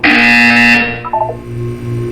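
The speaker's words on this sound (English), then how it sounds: "You will hear a buzzer." Buzzer in the video game Portal 2: one loud, harsh electronic buzz held for nearly a second, then cut off, followed by a few short beeping tones over a low background hum.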